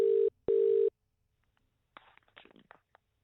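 A telephone rings out as a cold call is placed: two loud, steady ringback tones in quick succession, then quiet, followed by faint rustling and handling noise.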